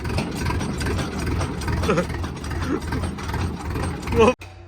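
A tractor engine runs at a steady idle nearby, a continuous low rumble with mechanical clatter before cutting off abruptly at the end, while people talk over it.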